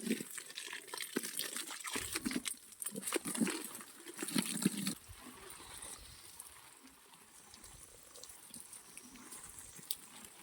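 Water poured and sprayed over garden plants, a close splashing and pattering rush that is busier in the first half and then settles into a softer, steady trickle.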